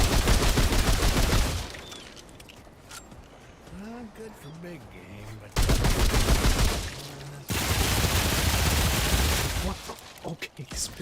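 Pistol shots in Remnant 2 come in several loud, sharp bursts of rapid fire, broken by quieter gaps where someone talks.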